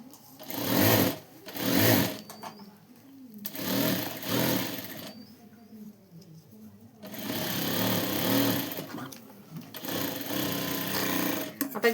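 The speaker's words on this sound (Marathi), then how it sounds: "आता ही अशी अस्तरला टीप मारून घ्यायला लागलोय." A sewing machine stitching the lining of a blouse sleeve, running in several close, buzzing bursts of rapid needle chatter separated by brief pauses, with quiet handling noise between runs.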